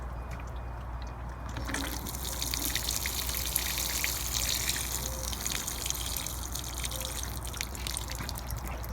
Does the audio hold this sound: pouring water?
yes